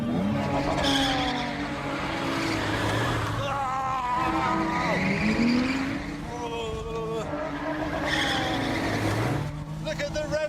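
A car engine screams at high revs with tyres skidding and squealing, the pitch sweeping up and down through repeated bursts of wheelspin, loud and close throughout.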